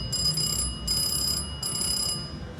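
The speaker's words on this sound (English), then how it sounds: "I like that bell. Pretty jamming." A slot machine bell rings in three sustained bursts with short pauses between them, bright and metallic over casino background hum.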